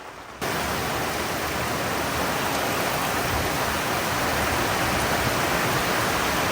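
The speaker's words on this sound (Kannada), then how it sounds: "ಮಳೆ ಬಂದರೂ ಆಗ್ಬೋದು ಗಾಳಿ ಬರಬಾರ್ದು ಅಂತ ಜೋರು ಗಾಳಿ ಬರ್ತದೆ" Heavy monsoon rain driven by strong wind in Dakshina Kannada on a dark afternoon, a loud, steady roar that fills the clip after a quiet first moment, with no voices.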